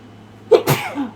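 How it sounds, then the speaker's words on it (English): A single close, loud sneeze from one person: a short breathy intake, then an abrupt explosive burst that trails off quickly. "I'm gonna sneeze."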